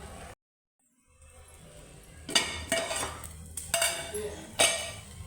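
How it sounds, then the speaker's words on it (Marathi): A metal lid is set on a pot of cooking rice, giving a few clanking, clinking metallic knocks close by after a brief silence. "आता याच्यावर आपण झाकण ठेवू"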